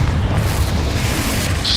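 A Confringo spell blast in the Hogwarts Legacy video game, heard as a loud, dense, rumbling boom that holds steady for under two seconds, with game effects layered over it.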